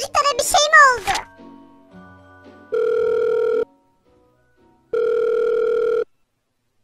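A phone call rings in Minecraft as two long, steady electronic ring tones with a pause between them, loud and close, after a short burst of voice at the start.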